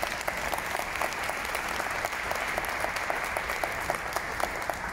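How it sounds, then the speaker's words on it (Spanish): Conference attendees at the IMEF 2023 convention applaud, with continuous, even clapping from a large crowd filling the space at a steady level for the full five seconds. "Y creo que eso merece un aplauso"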